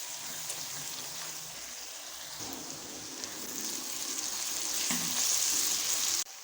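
Masala with turmeric powder and salt frying in a pan for lobia (black-eyed bean) curry, a steady close sizzle and crackle that swells louder toward the end, with faint stirring scrapes.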